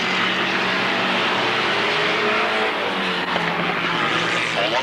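Stock cars racing on a track, with one car spun around: a dense, continuous roar of engines and tyre noise, loud and steady throughout, with no voice heard.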